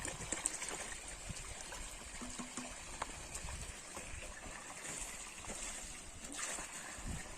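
Water from a hose splashes and trickles steadily outdoors in a pistachio orchard, a continuous soft flow with light splatter and faint background activity.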